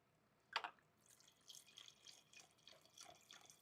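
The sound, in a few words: wine being poured into a glass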